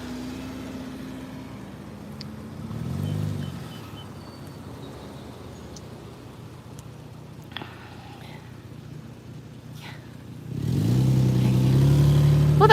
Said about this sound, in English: There's a lot of traffic down here.